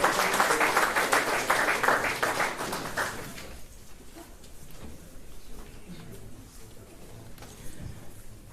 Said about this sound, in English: one round of applause for him one more time